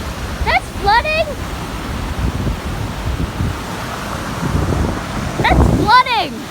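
A flooded river in Walla Walla, Washington, running high near a bridge, gives off a steady, loud broadband roar of rushing water throughout, with brief bird chirps cutting through near the start and again near the end.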